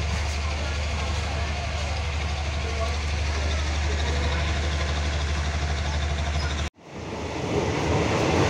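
Steady low rumble of a train carriage departing a station on the Sungai Kolok to Bangkok line, with broadband rattle, briefly dropping out before the rolling noise builds again, with faint talk in the background.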